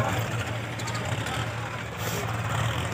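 Heavy diesel tractor and JCB loader engines rumble steadily in an open mustard field, a continuous low drone with no clear rise or fall, nearby and fairly loud.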